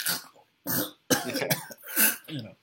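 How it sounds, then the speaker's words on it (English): A person fakes choking with a series of harsh, strained coughs and throat-clearing gasps in quick bursts, close and loud. "pretend you're choking and not just coughing"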